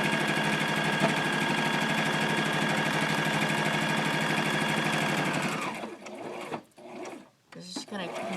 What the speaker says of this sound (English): we're going to top stitch and a straight stitch all the way around the mask.